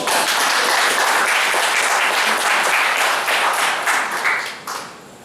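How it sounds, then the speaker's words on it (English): A roomful of attendees at a goal setting training session breaks into loud, dense applause, steady clapping from many hands that tapers off near the end. "You deserve a huge round of applause."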